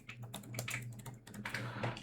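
Rapid clicking keystrokes on a computer keyboard type out a command in quick, uneven bursts, close up and fairly clear against a quiet background.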